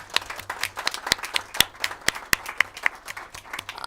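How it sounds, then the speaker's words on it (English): Applause for committee staff at a Senate Committee on Judiciary hearing, a small group clapping in distinct sharp claps, moderately loud and close. "they deserve a round of applause, honestly"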